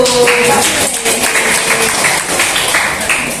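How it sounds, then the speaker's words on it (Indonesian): Audience at a Dharma talk clapping together, a continuous full wash of applause that holds steady, with a few faint voices mixed in. "Lause tepuk tangan dulu."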